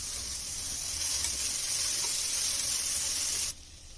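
Crushed ginger, garlic and curry leaves sautéing in a pan for Kerala-style beef curry, a steady bright sizzle close by that cuts off sharply near the end.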